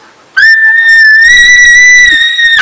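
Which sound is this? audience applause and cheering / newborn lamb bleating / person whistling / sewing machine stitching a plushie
person whistling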